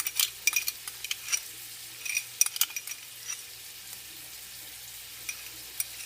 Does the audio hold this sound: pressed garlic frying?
yes